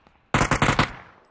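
A burst of automatic gunfire from the video game PUBG, four rapid loud shots in quick succession, each close and sharp, with a short fading tail afterward.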